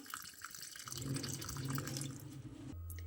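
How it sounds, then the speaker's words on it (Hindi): Water runs and trickles into a bowl of radish paratha dough mixture with cumin and green coriander, a steady close pour that swells mid-clip and ends with a lower, fuller filling tone. "अब इसमें डालेंगे पानी।"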